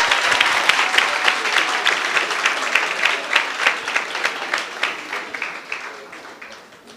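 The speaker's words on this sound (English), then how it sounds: "Please just give them a round of applause," Audience at a Kasi business workshop pitching challenge in Umlazi applauds the contestants, a dense sustained round of clapping that stays loud for several seconds before tapering off.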